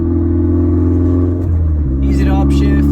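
A Mini Cooper with a shift boot delete kit drives and downshifts, its engine a loud steady rumble with a noticeable shift in pitch partway through, heard up close from inside the car.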